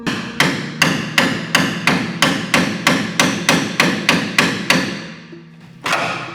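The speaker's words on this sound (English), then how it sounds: "only then going in with the hammer and the chisel" Hammer driving a chisel into spot welds on a BMW E30 car body, about a dozen loud, evenly spaced metallic blows, then a brief pause and one more strike.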